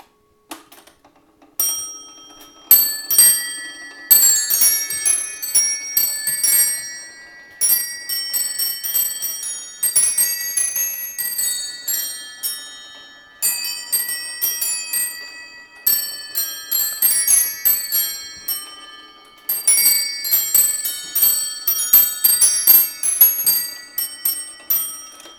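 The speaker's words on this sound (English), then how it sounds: "And following that, it plays a tune on the bells." Bells of a rare Black Forest musical carillon clock play a lively tune, rapid bright ringing notes in phrases separated by short pauses, close and clear throughout with no voices.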